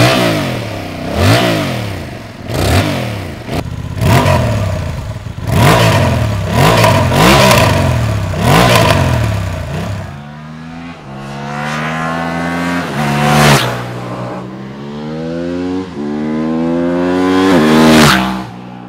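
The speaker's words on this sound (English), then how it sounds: "these bikes sound really good when they're on the throttle" Parallel-twin motorcycles, a Honda Hornet CB750 among them, rev loudly on the throttle: a run of sharp, rhythmic blips followed by longer pulls whose engine pitch sweeps upward through several gear changes.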